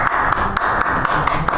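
Guests at an Elvis-themed wedding in a Las Vegas chapel clap steadily together, a close, dense patter of hands filling the room with no talk.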